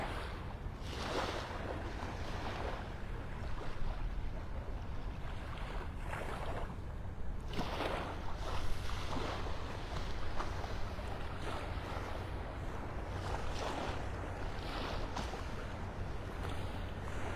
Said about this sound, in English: We can really hear those waves washing over the sandbars out here.